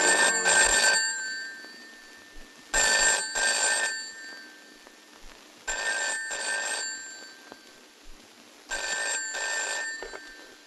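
Telephone ringing in a Malayalam film scene, loud electronic ring bursts in four evenly spaced double pulses across the clip, each followed by a brief pause, alone and close.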